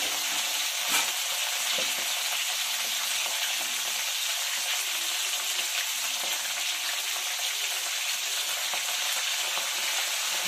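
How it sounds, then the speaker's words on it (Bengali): Two large cauliflowers frying in oil in a pan give a loud, continuous sizzle with faint stirring, steady from start to finish and no talking. "দুটো বড় সাইজের ফুলকপি, এগুলোকে ভেজে নিচ্ছি।"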